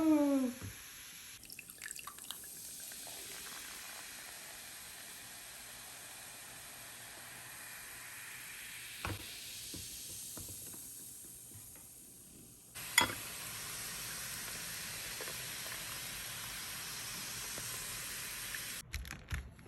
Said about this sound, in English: It's fizzing!